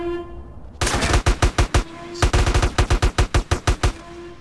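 Rapid automatic gunfire in GTA: San Andreas, loud and close, with a dense opening burst followed by a rhythmic string of distinct shots in two volleys, a steady low hum of the game running underneath.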